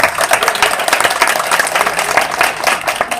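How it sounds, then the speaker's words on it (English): Applause from the audience at a community celebration honoring mothers, a steady, dense patter of many hands clapping throughout, fairly loud and close. "Let's give YWCA a round of applause"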